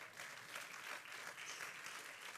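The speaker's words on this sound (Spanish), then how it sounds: "Apláudele al Señor, aleluya." Church congregation clapping during a sermon, a dense, steady patter of many hands applauding throughout at moderate loudness with no one speaking.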